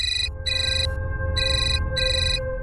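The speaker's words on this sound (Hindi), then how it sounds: "रणवीर जी का फोन है" A telephone rings loudly and close in a repeating pattern of bright electronic trill bursts separated by short gaps, heard alone without talk.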